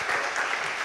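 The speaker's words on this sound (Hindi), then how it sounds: "एक बार मैं चाहूंगा इस राउंड के लिए जोरदार तालियां हों।" A short burst of audience applause at a studio panel show, loud and steady for the whole moment, with no voices over it.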